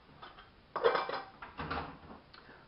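A tin of diced tomatoes is tipped into a pan of vegetarian nacho mix, making two metallic clanking, scraping bursts with soft wet slides between them, close-up and without voices.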